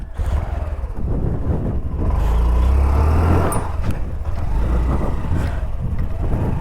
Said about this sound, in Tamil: இந்த வண்டியை நான் உங்களுக்கு ஓட்டி காட்டுறேன்